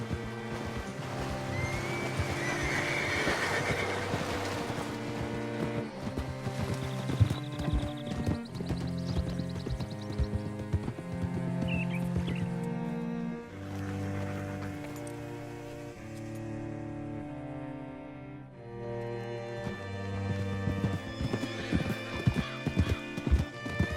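Horse hooves clip-clopping at pace with a whinny in the Red Dead Redemption 2 video game, over layered game music and ambience, steady hoofbeats running through most of the stretch.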